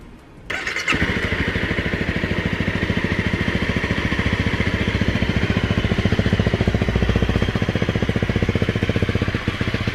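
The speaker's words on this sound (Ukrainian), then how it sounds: "От чути, як робить мотор, як працює мотор, він просто урчить." A 2017 Honda CRF250 Rally enduro motorcycle engine catches after a brief start and settles into a steady, rapid, even-pulsed running beat, close and fairly loud, with no talking.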